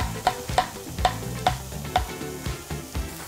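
Mushrooms and onion stir-frying in a pan at a campsite, a soft sizzle under repeated scraping strokes of a utensil at a steady rhythm, close and fairly quiet, with background music.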